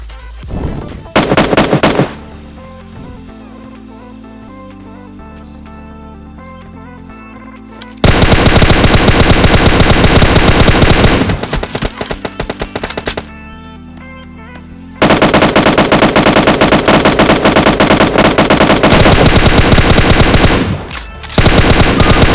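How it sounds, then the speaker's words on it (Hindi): Bursts of automatic gunfire from an enemy squad in a battle royale video game, sharp loud volleys with short gaps, then long sustained firing near and intense. "पर जब तक हम कुछ सोच पाते तब तक हम पर होने लगी थी फायरिंग"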